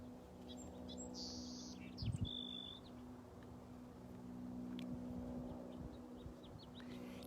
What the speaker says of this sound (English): Yes, there is a house finch.